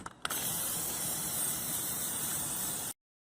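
Plasti Dip sprays from an aerosol can onto a 2007 Ford Ranger wheel, a steady close hiss lasting almost three seconds after a couple of quick clicks, then stopping abruptly into silence.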